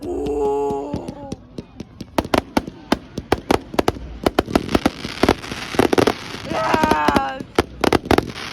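Bonfire Night fireworks bang and crackle in a steady stream of sharp, loud pops and bursts, some close and some further off, while voices exclaim and talk over the display.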